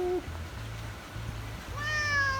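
A cat meows twice at close range, first a short call and then a longer rising one, over a faint background hum and soft rustling.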